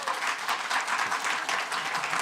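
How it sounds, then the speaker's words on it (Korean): A church congregation at a Sunday worship service claps in welcome, giving a brisk, continuous patter of many hands at moderate loudness. "우리 선교사님 나오실 때 박수로 환영하며 격려드리겠습니다."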